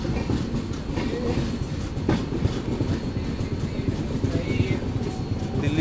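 The Bikaner Intercity train rolls past with a steady, loud rumble and rhythmic clatter of wheels over rail joints, lasting the whole stretch.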